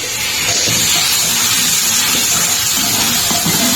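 Fish being washed under a running kitchen tap, a loud continuous rush and splash of water filling the whole moment, close up with no voices.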